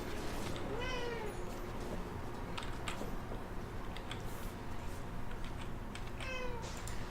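A cat meows twice, a few seconds apart, over a steady hiss with scattered keyboard typing and clicks during a Dota match stream.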